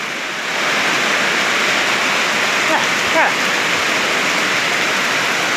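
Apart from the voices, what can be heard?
heavy rain falling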